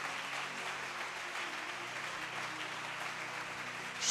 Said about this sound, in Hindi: तो जोरदार तालियां बजाएं,